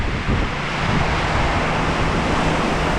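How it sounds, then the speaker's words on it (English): Strong storm wind roars steadily around a barn in Florida during a sudden squall with sideways rain, a dense, continuous rushing wash with gusty buffeting against the microphone and no voices. "I wasn't expecting this high of wind coming through here like that."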